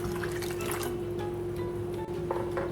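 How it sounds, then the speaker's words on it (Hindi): Water is poured into a pan of red lentils for Bengali-style masoor dal, a continuous close splashing trickle over a steady low hum from the kitchen. "पानी डाल देंगे।"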